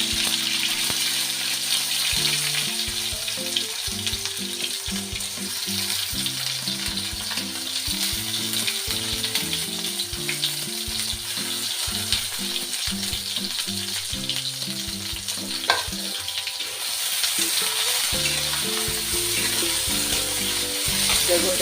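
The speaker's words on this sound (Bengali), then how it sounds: "সর্ষের তেল দিয়ে এবার আমি বেগুনটাকে ভেজে নেব।" Eggplant frying in mustard oil, a steady, loud hiss and crackle that carries on at length, with occasional stirring clinks and a brief bump, heard close with nobody speaking.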